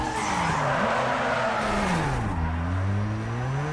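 A Mazda RX-7 drifting in the racing video game Need for Speed Underground 2, its rotary engine droning and shifting pitch while the tires squeal loudly through a long, sustained slide, close and continuous.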